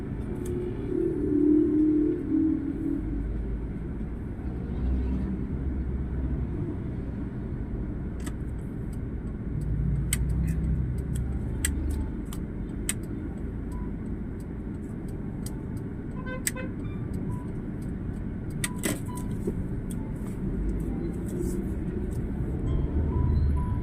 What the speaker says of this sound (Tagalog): Traffic nga ano, pag Sabado.